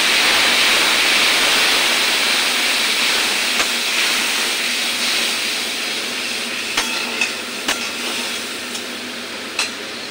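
Water hits sizzling spiced potatoes with turmeric and ginger in a hot pan, setting off a loud, steady hiss that fades slightly over time, with a few sharp pops and clinks.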